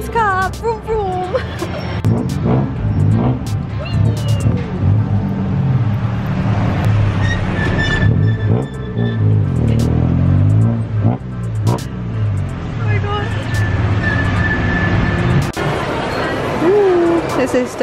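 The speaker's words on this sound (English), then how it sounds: "We're in a tuk-tuk. And the engine." A tuk-tuk engine drones steadily through a ride in Bangkok traffic, with revving swells and road noise around it while people talk over the rumble throughout.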